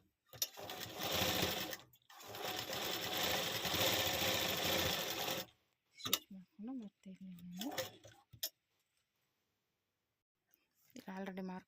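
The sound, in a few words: sewing machine stitching folded fabric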